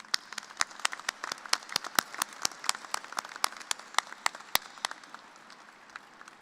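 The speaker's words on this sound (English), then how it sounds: "Please join me, graduates, in giving your loved ones a well-deserved round of applause." Graduates at a spring engineering commencement ceremony clap for their families, with sharp, distinct individual claps from a modest number of hands in a large hall, irregular and thinning out toward the end.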